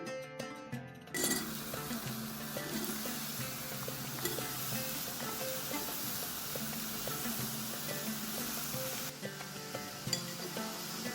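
Ridge gourd pieces sizzle in a pan with ginger garlic paste for a prawn curry, a steady dense frying hiss broken by occasional clinks of a utensil, with no voices.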